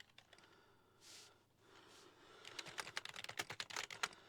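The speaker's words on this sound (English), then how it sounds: "So we're going to do a keyboard test." A Lidl gaming keyboard under test gives quick, close, uneven clatters of keystrokes after a quiet stretch with soft breaths.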